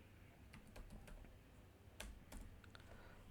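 Keys click on a computer keyboard, a quiet, irregular run of typing taps with a few sharper strikes, heard faintly and close up over a low background hiss.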